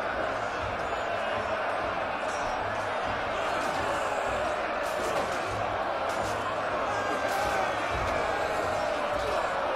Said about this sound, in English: A lot of cheering going on.